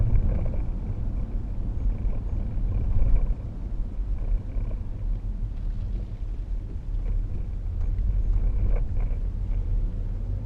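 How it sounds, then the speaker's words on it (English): A 2012 Range Rover Sport 3.0 SDV6 diesel pulling away, heard as a steady, fairly loud low engine rumble with some wind noise, continuous for the whole stretch and without talk. "that just shows you how it pulls away"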